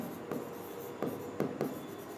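Writing on a board during an electrician theory lesson, heard as a few short, scratchy strokes at close range, with quiet pauses between them and no talking.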